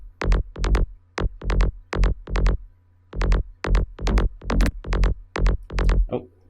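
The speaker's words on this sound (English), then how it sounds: "very in-your-face kind of bass patch here" In-your-face psytrance synth bass patch built from two rendered layers, pumping in fast, punchy repeated bursts with deep low end, loud and upfront with no other sounds.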